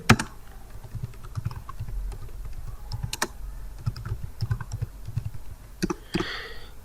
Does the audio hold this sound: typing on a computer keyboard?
yes